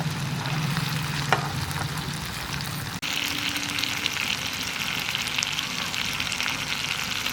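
Masala chicken frying in a pan while being stirred: a steady, close crackling sizzle throughout, with a sharp scrape of the utensil against the pan midway and no talking.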